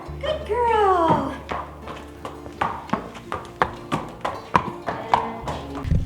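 Hooves of a rescue horse clip-clopping in a steady rhythm, fairly close and distinct, as she backs up at a fast pace on a wet farm; a brief voice is heard near the start.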